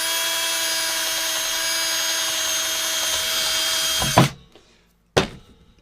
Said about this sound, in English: just drill a hole straight through the centre of this